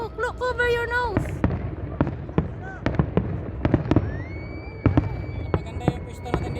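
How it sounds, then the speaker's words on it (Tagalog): Fireworks burst at a Saudi National Day celebration in Al Salam Park, Hail, Saudi Arabia, with repeated sharp bangs and crackles in an irregular rhythm, some with whistling rises, close and loud, while people talk excitedly over them. "First class yung mga ano nila, fireworks nila."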